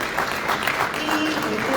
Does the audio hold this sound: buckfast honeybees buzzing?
no